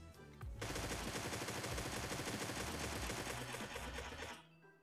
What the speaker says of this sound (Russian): Высаживаем все патроны и забоим.